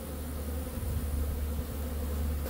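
Honey bees buzz continuously around a hive set up as a queen nursery, a dense steady drone with no talking.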